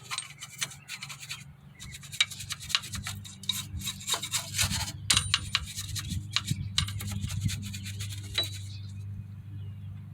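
A brush scrubs rust off a car's parking brake assembly in steady rapid strokes, close and scratchy, continuing for several seconds with occasional metallic clinks and no speech.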